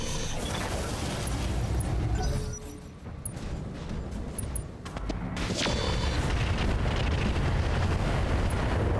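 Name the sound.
mech weapons firing at target in BattleTech video game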